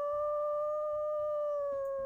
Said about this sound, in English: Let's listen to these beautiful howls.